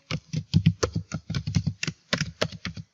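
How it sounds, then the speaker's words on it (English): Keys clatter steadily as a new password is typed on a computer keyboard, about fifteen quick, close, clear clicks in an uneven rhythm with short pauses, no voices. "Now type in the new password."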